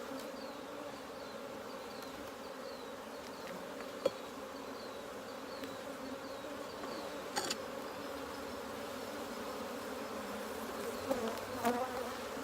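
Honey bees swarm thickly over a brood frame lifted from a hive, a steady close drone running through the whole stretch with a few sharp knocks and clicks on top.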